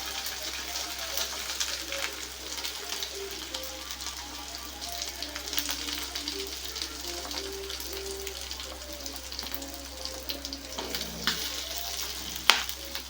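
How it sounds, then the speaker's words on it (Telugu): Grated coconut and green chillies fry in oil for a gherkin and groundnut chutney, giving a quiet, steady sizzle with light crackles and the occasional scrape of a spoon. "సో ఇప్పుడు ఇందులోనే కొబ్బరి, పచ్చిమిర్చి అంతా కూడా వేయించేసుకోవాలి."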